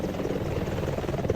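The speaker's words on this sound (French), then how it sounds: "Pourquoi l'hélico décolle pas là?" Helicopter engine idling in the video game Roblox, a continuous low whirring rotor hum with a slight pulsing rhythm, moderately loud and close for a short moment.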